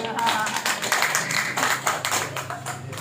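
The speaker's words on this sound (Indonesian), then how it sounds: "Tepuk tangan untuk Pak Ketua kita." A crowd at a community ceremony claps together in a dense, steady burst of applause that carries on for a few seconds, with some voices mixed in.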